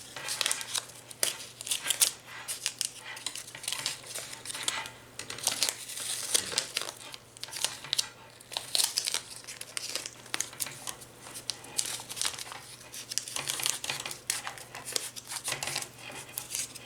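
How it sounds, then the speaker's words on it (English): Tape being pulled and pressed while a craft wreath is gathered and secured, giving a steady run of close crinkling, rustling and crackling handling sounds with no talk. "Just gathering it together and securing it with just a piece of tape."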